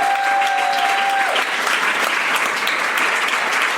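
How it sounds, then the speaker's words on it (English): Loud, dense applause and clapping from a live podcast convention audience, with a brief tonal whistle at the start and steady clapping throughout. "I want to get a round of applause for the great Cormac"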